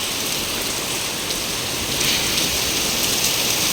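Dense, heavy rain hisses continuously and loudly, a constant wash of water with no voices.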